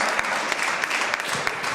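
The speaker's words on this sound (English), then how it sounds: "Give a little round of applause for my church." Brief burst of audience applause at a Harlem comedy show held in a crypt, many hands clapping in a steady wash that stays loud and even throughout.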